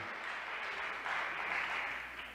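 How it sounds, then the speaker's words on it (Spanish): Steady applause from a crowd, a dense wash of clapping that swells slightly midway and holds throughout. "A las mujeres el aplauso."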